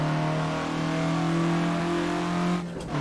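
Reliant Robin three-wheeler engine droning loudly at steady high revs on the Nordschleife, then a brief dip near the end as the driver shifts to third gear.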